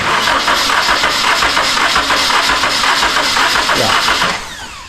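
A car engine cranks steadily for a compression test on a Honda project car, the starter churning in a loud continuous rhythm for several seconds before easing off at the end, with no voices.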